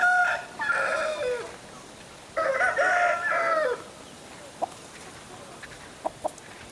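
A ten-month-old Bhimavaram rooster on a farm crows twice in loud, close bursts, then gives a few short, sharp clucks spaced apart against a quiet background.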